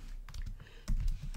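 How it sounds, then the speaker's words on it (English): Quick clicks of keys being typed on a computer keyboard, a short burst of close, soft taps with a slightly louder cluster near the end. "So we'll begin typing equals"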